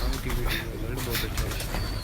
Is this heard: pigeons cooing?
yes